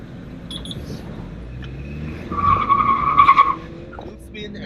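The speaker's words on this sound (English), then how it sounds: "Wheel spin and torque steer." 2018 Ford S-Max Ecoboost spinning its front wheels under hard acceleration with torque steer, engine roar rising as a sharp tyre squeal builds midway and then fades, close and loud.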